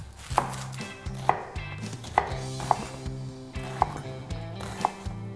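A kitchen knife chopping through a large onion on a wooden board, six sharp, evenly spaced close thuds under a faint background hum, with no talking.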